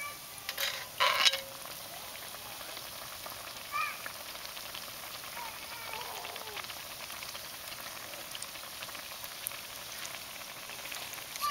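Sopapilla dough puffing in vegetable oil at 375 degrees inside a Dutch oven, giving a steady soft crackling sizzle throughout with a few louder bursts near the start.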